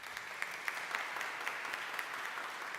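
A church congregation at a Christ the King service claps in a soft, even patter with scattered sharper claps, heard from some distance.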